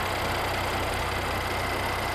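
A Mercedes-Benz C43 AMG W205 4MATIC sports sedan idles with the engine bay open, a steady, continuous broadband hum and rumble with no talk.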